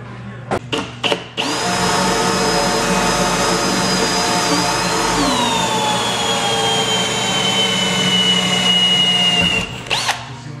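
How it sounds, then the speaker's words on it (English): A power drill drills pilot holes in a 2005 Honda CR-V for a wing install, whirring steadily for several seconds at close range, its pitch dipping slightly midway, with brief clicks and bumps before and after. "let's drill these pilot holes"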